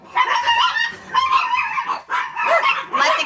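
Several dogs bark in quick, repeated high yips and bow-wows indoors during sewing, loud and close, coming in bursts with brief pauses between them.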